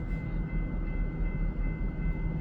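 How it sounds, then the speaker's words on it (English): A loaded corn freight train rolls past in Fremont, Nebraska in winter, a steady, fairly close rumble and clatter of railcars on track throughout, with no talk. "This is a loaded corn train"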